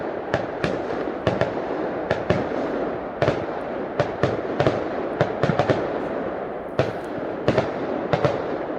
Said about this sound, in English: getting a little fireworks show